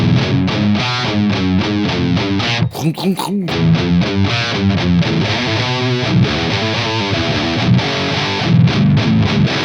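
A distorted electric guitar played through a Mesa 4x12 cabinet, with moderate gain and a gritty, sandy texture, strummed chords and riffs ringing loud and close with a brief break partway through.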